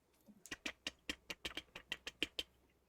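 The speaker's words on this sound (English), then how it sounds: "you can hear the like typing on a keyboard" Keys clack on a keyboard in a quick irregular run of about a dozen crisp taps, faint and close, with no talk.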